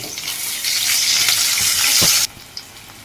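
Onions fry in a pan with whole garam masala for aloo pulao, giving a loud, bright sizzle with some stirring. The sizzle cuts off abruptly near the end, leaving a faint clink.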